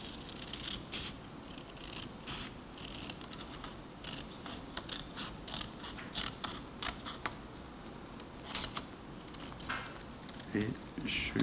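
Paper cut with scissors along a line during a children's craft activity, a series of soft snipping crunches in an irregular rhythm under a steady background hum, with brief quiet speech.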